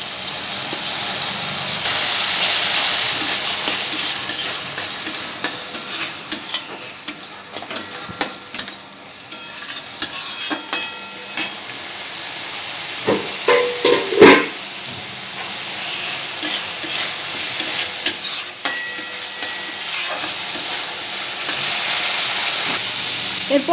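Spice masala mixed with dried coconut powder sizzles and fries steadily in a pan, with scraping stir strokes and bursts of crackle over a continuous hiss, close up and fairly loud.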